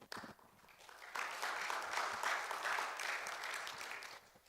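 A church congregation claps for the praise and worship team, a sustained round of applause that swells after a brief opening and carries on evenly, heard alone.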